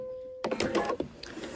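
A sewing machine runs a gathering stitch on fabric for balloon sleeves. A short hum gives way to a quick burst of rapid mechanical stitching, close and fairly quiet, with no voices.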